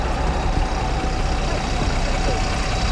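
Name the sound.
stalled vehicle engine starting after being pushed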